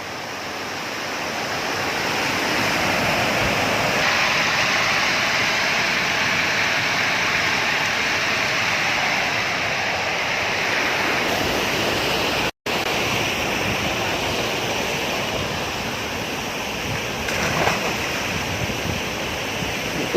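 Water rushing at a dam near a riverside campsite, a loud, steady roar of flowing water mixed with wind buffeting the microphone, continuous with one brief dropout.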